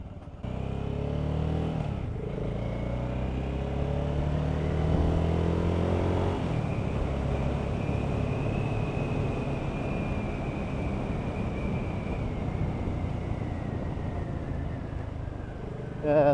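A BSA Gold Star 650 single-cylinder motorcycle rides past with a steady, loud engine drone that rises through one gear. A brief dip marks a shift, after which the engine pulls on with rising wind noise.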